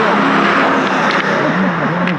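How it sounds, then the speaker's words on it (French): Road traffic roars past at high speed on a street, a loud, steady rushing wash of tires and engines filling the whole moment with no break. "don't worry about the car because the car they go very fast here"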